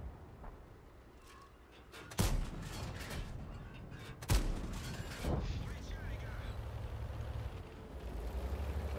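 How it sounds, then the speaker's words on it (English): In a tank battle game, self-propelled artillery fires on an IS-3 heavy tank: two sharp booms with rolling rumble, over ongoing battle noise and a voice talking. "Those SPGs, they're shooting the IS-3"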